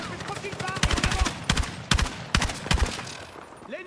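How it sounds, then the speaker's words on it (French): Rapid automatic gunfire in the Battlefield 6 video game, several loud bursts of close shots in quick succession with a soldier's voice underneath. "On continue de tirer"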